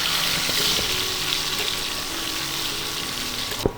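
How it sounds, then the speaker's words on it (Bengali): Washed potatoes frying in oil in a pan to brown, a steady broadband sizzle filling the whole stretch with a few faint clicks and a small knock near the end, no voices. "এবার আলুটা একটু লালচে করে ভেজে নেব"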